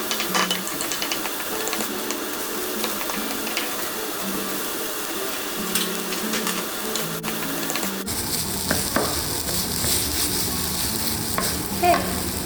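Onions frying in a pan while being stirred, a steady sizzle with repeated clicking scrapes of a utensil, close and moderate, growing brighter and louder partway through; no talking.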